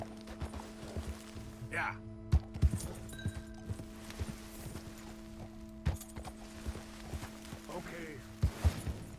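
Horse hooves clip-clop across the ground in the video game Red Dead Redemption 2, with uneven, scattered thuds and occasional louder hits, as a voice speaks briefly over them.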